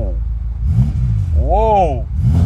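A deep, rumbling BMW M5 engine idles and then revs up and back down in one loud, swelling roar, with voices murmuring nearby.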